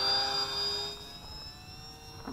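An XK A600 micro RC airplane flies past with a thin, steady high-pitched motor whine that fades from moderately close to farther away over a couple of seconds, with no voices.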